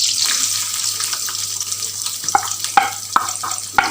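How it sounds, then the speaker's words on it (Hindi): Chopped onions sizzle in melted desi ghee with a steady bright hiss, while several spoon clinks and stirring knocks sound close by. "घी हो गया है जी अल्हम्दुलिल्लाह मेल्ट, और अभी इसमें डाल देते हैं कटे हुए प्याज"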